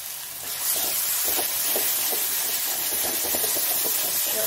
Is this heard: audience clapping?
no